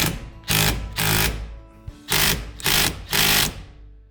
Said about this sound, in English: Alright, got the impact back on it.